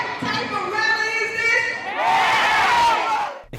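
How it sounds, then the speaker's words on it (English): A crowd of students at a middle school pep rally cheers and shouts loudly, sustained excited yelling that swells into a big roar before cutting off. "And board members get the crowd going."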